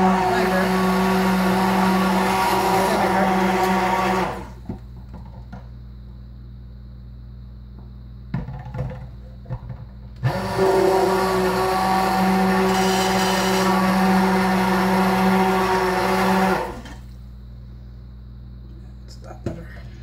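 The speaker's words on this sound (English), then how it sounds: "Just cleaning my blender." A kitchen blender being cleaned runs loudly in two long bursts with a steady motor whine, separated by a quieter stretch with light clatter.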